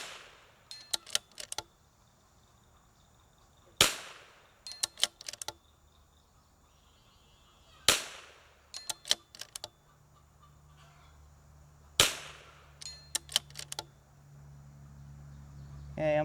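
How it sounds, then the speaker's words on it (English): Four sharp, loud .22 LR precision rifle shots spaced about four seconds apart, each followed by a quick cluster of faint ticks, likely the bolt cycling, with a quiet outdoor background between. "we're going to try and shoot a group on that plate."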